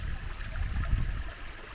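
A creek beside a qanat channel runs with a steady, close trickling and gurgling flow, heard alone with no voices.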